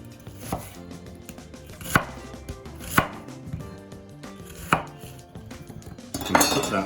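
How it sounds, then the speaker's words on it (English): A knife cutting vegetables into wedges on a chopping board: five firm, spaced thuds of the blade hitting the board, close and clear, ending in a brief rustle. "I'm just going to cut this into some wedges"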